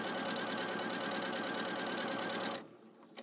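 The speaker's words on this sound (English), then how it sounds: "And hit the start button. And what it's going to do is it's going to sew the same length." A Janome Skyline S7 sewing machine stitches steadily at a set length, its fast needle chatter loud and continuous before it stops abruptly near the end.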